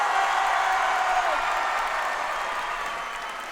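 A theatre audience at the Grand Rex in Paris applauds performers, a loud, dense wash of clapping and crowd noise that runs throughout and slowly fades toward the end.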